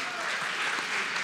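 Audience applause at an open-source animation gathering, a steady broadband patter of clapping that holds evenly through the whole short stretch at moderate loudness.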